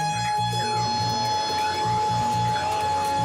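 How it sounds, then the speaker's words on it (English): The shark alarm at Bondi Beach sounds as one steady, sustained electronic tone that carries on through the whole few seconds, loud and continuous over a low pulsing rumble in the background. "We sounded the shark alarm."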